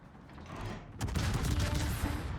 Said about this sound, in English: I missed my shot because I'm not leading enough.